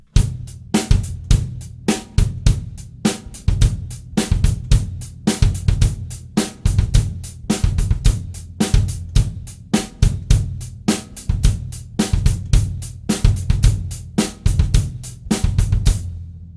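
Funk rock drum kit groove drives a busy, dynamic bass drum line under steady cymbal and snare hits, punchy and close, repeating in tight cycles for the whole stretch with no voices.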